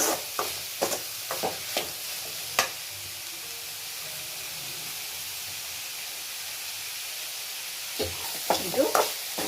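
Chopped raw mango frying in a pan for a North Karnataka chutney: a steady soft sizzle with bursts of spoon scraping and stirring clatter near the start and again at the end, no talking.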